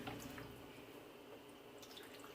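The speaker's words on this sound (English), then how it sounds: "Could also rinse this out with a little tip of water so you get everything." Water rinses out a container, probably at a kitchen sink, a faint continuous running and splashing that stays steady throughout without speech.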